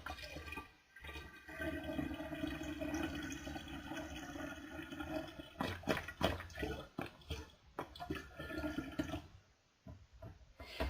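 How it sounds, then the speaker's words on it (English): Apple juice glugs and splashes as it pours from a carton, a continuous liquid rush with gurgling surges and a few drips near the end, close by and quiet. "One has been emptied, and only a minimal amount of cider, apple juice, has been lost."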